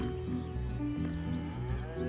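Cattle mooing in the mobile farming game TownTale, several drawn-out low moos overlapping steadily over a constant background with no talk.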